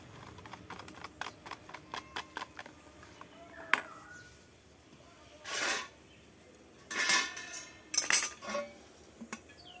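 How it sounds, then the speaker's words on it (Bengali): A utensil beats batter for topa paneer in a bowl. Rapid, light metallic clicks come first, then a few louder, longer scraping swirls, close by with quiet gaps between them. "বন্ধুরা, ব্যাটারটা ভালো করে আমি ফাটিয়ে নেব।"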